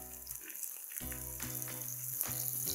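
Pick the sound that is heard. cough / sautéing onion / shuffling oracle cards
sautéing onion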